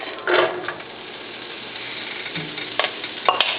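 Diced red onion hits a hot pan with a burst of sizzling, then settles into a steady, close frying hiss broken by a few clinks and scrapes.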